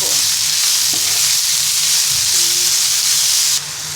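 Boiled radish greens stir-fried in a pan, a loud continuous close sizzle and hiss with occasional soft stirring knocks, dropping abruptly quieter near the end.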